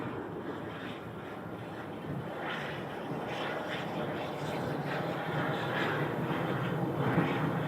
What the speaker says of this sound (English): Another 737 using a lot of runway.